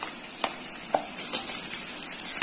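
Chopped ginger, red chillies and curry leaves sizzle in hot oil in a pan, a steady crackling hiss punctuated by a few sharp pops as the mix is stirred.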